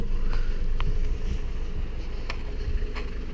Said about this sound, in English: You see, the engine is working really quiet.